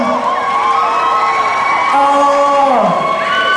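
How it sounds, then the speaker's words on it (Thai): Fans at a singer's launch event for a new single cheer, whoop and shout in a dense, steady crowd roar that stays loud throughout, with some high excited squeals rising near the end. "ปรบมือกับพี่ออฟด้วยได้ได้ไหมฮะทุกคน"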